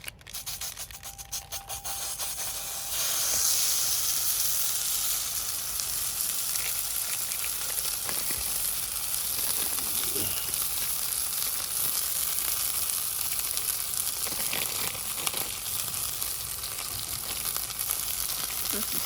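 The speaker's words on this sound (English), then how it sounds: "Listen to that sizzle. It's definitely hot." Pork chorizo sizzles steadily in a hot pan on a Solo Stove, a loud, continuous frying hiss with occasional scraping, and no talk.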